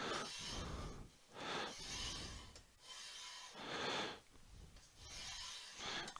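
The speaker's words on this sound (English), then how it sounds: "To make sure the carriage is moving smoothly." The Y-axis carriage of a Prusa i3 MK3 3D printer is slid back and forth by hand during assembly, making soft rhythmic rubbing swooshes, about four passes, close and quiet.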